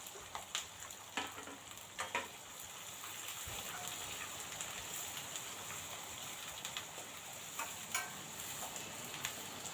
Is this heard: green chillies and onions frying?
yes